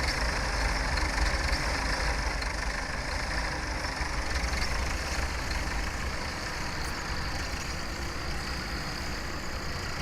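Tractor engine idling in Farming Simulator 17, a steady, even diesel drone with a low rumble and a faint knock, constant in level throughout, no one speaking.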